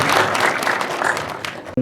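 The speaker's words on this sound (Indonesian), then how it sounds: "Aplaus dulu buat Bu Rita" Applause for a woman at a vocational school industry visit to a Banten TV station, a dense crowd clapping steadily and loudly, then cutting off abruptly at the end.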